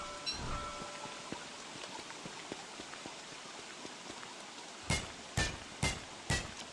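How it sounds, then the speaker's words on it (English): Rain falls in the video game Don't Starve as a soft steady patter, with a few louder sharp thumps near the end. "It's just rain."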